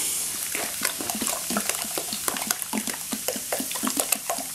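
Warm Pepsi glugging and fizzing as a half gallon is poured into a container, a steady stream of splashing liquid with crackling carbonation throughout, close and fairly loud with no talk.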